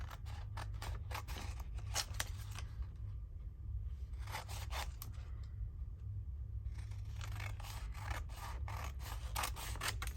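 Scissors snip through a sheet of vellum, making rapid, close, crisp cuts in bursts, with a short pause in the middle and a low steady hum underneath.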